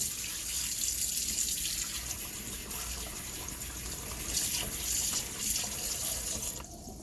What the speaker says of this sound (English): what we're doing is washing the salt and the vinegar that we first cleaned our chicken with out.